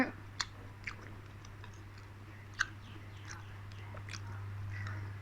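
Close, soft chewing of tofu at a meal of kuay jap noodle soup, with faint wet mouth clicks and small bites over a steady low electrical hum.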